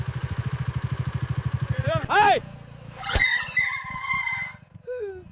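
A lone motorcycle engine pulses steadily up close on a roadside, then cuts off, followed by a sharp squeal, a thump and people talking over fading engine noise.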